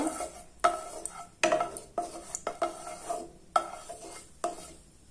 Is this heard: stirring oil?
yes